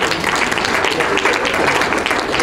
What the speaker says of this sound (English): Let's give Deb a round of applause.